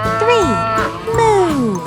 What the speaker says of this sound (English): The cow goes moo.